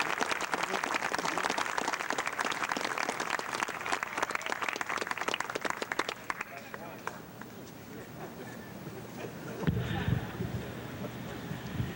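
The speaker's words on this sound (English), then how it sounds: "Give that a round of applause." Audience applause at a pressure point methods seminar, a dense burst of clapping for about six seconds that thins out and fades, followed by quieter room noise and a brief voice near the end.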